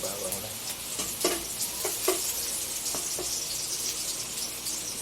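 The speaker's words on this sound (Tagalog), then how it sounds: "maglalagay po tayo ng bawang. Ito, bawang po" Garlic sizzles and fries in a pan for a ginisang halaan dish, a steady broadband hiss broken by several brief stirring scrapes, close and moderately loud, with no voices.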